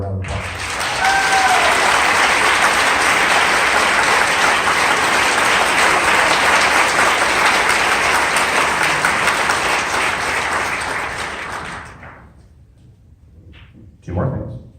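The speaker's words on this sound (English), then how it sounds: "Let's give him another round of applause." A symphonic concert audience gives the conductor a long, full round of applause, dense and steady for about twelve seconds before fading out, followed by a brief voice at the end.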